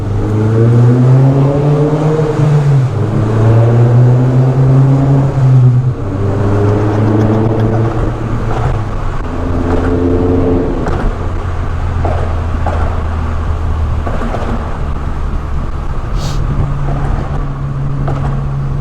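A 2008 MINI Cooper S JCW accelerating hard up a viaduct road, its engine loud and close, climbing in pitch through several gear pulls before settling into a steadier drone, with no talking.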